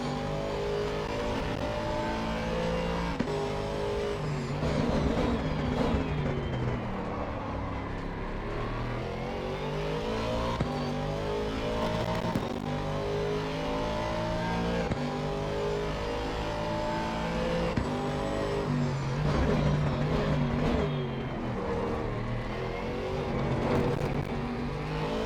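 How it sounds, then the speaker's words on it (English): An Aston Martin GT3 race car in a video game at Zolder roars continuously through repeated upshifts and downshifts, engine pitch rising and falling in a steady rhythm, heard from the cockpit. "Just listen to the engine on this beautiful Aston for a little bit."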